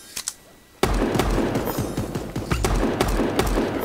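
A thrown grenade in Super Animal Royale goes off with a sharp, loud blast, followed by rapid cracking gunfire and thuds. A couple of faint pops come first, then a steady stream of close, punchy shots.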